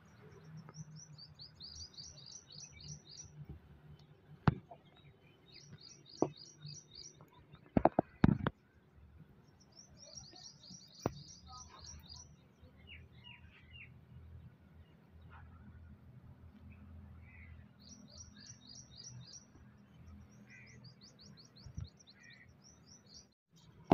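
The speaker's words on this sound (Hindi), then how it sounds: "चिड़िया चिड़िया की आवाज़ें आ रही हैं, और कोई आवाज़ नहीं है" Birds chirp outdoors in short rapid bursts of high trills, repeating every few seconds over quiet background hum, with a few louder knocks and rustles close by.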